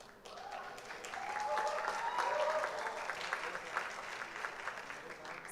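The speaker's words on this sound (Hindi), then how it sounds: "तो एक बार जोरदार तालियां हो जाए हमारे हुनरबाज नंद के लिए" Applause from the studio audience on a televised talent show, building in the first second and holding steady as a dense, sustained wash of clapping with faint cheering.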